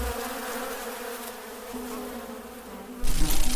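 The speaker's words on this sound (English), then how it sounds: "a great buzzing sound erupted from the dense leaves" Wasps buzz as a steady, dense drone as an audiobook sound effect, swelling louder and closer near the end.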